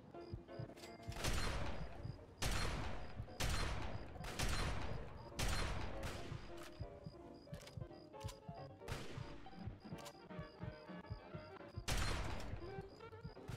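Gunfire in the video game Fallout 3 against Super Mutants, loud separate shots and heavy crashing impacts, each followed by a decaying tail, repeating at irregular intervals over several seconds with little talk.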